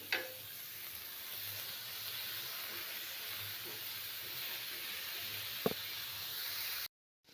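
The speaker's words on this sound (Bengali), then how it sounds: "এবার আলুটাও আমি পটলের সাথে ভালো করে ভেজে নিচ্ছি" Potato and pointed gourd pieces fry together in oil, an even hissing sizzle with occasional stirring knocks that runs continuously before cutting off abruptly.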